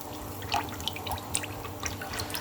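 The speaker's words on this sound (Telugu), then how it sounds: "ఆయిల్ పోసుకుంటున్నాను" Cooking oil poured into a pan before frying onion garelu (lentil fritters), heard as faint, sporadic drips and a light trickle against a quiet room, with no talking.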